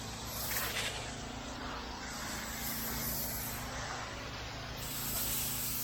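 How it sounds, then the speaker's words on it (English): A steady, broad hiss of water spraying from a pressure-washer sprayer during a house wash runs continuously and close, with no pauses. "Quick spray."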